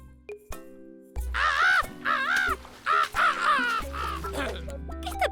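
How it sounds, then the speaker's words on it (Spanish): An injured bird gives loud, close crow-like caws, several harsh cries in a ragged series over a humming electronic background. "Parece un pájaro herido."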